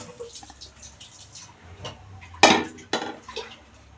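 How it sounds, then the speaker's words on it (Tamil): Roasted urad dal for idli-dosa podi tipped out of a pan onto a plate, giving a sharp rattling clatter followed by a second shorter pour, fairly close, over quiet kitchen background. "இப்போ நம்ம இதை கொட்டிட்டு"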